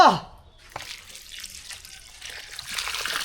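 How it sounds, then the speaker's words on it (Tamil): Milk poured into a pot of rice and moong dal for akkara vadisal, a steady liquid splash and trickle lasting a few seconds at close range, with no clear talk over it. "நான் கொஞ்சம் பாலை ஊற்றி விடுறோம்"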